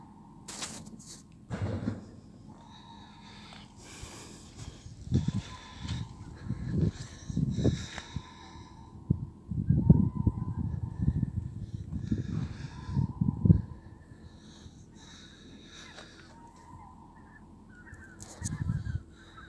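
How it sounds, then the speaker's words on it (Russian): Geese honking far off and high overhead, a scattered series of calls rising and falling over several seconds against an open outdoor background. "Гуси вон далеко, высоко."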